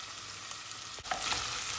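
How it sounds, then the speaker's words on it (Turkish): Carrots being sautéed in a pan, a steady bright sizzle with a brief stirring scrape midway, close and continuous with no talk. "Havuçlarımızı da kavurduk."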